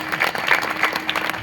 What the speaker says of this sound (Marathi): त्याच्यासाठी पण टाळी वाजवा